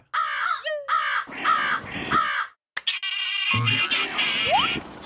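Cartoon crows from Motu Patlu cawing in harsh, repeated bursts, then a sudden break followed by busy animated sound effects, including a rising whistle-like sweep.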